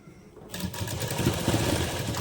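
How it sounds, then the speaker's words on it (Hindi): A sewing machine runs steadily after a short quiet start, stitching lace along the edge of a lehenga blouse neckline, its close, loud motor hum and rapid needle chatter continuous throughout. "सिलाई हमें किनारे पे करनी है"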